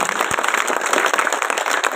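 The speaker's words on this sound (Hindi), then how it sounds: "तालियां बजा के मैडम का स्वागत करें" Applause from a village crowd welcoming a speaker, a dense steady patter of many hands clapping at moderate volume with no voices.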